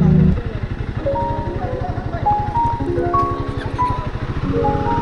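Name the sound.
motorcycle engine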